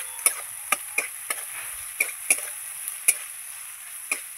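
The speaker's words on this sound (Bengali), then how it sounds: "এবার আমি এই যে কাঁচা মাছটা মশলার মধ্যে দিয়ে দেবো।" Raw fish pieces sizzle in fried spice masala in a pan, a steady high hiss punctuated by sharp spatula scrapes and clicks against the pan, close and fairly loud with no one talking.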